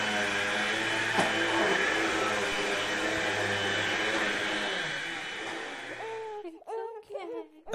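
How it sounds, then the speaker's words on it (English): A household clothes dryer runs as steady white noise, a continuous loud hum with a drumming tone for several seconds, then stops and faint voices follow. "A different kind of white noise is the dryer."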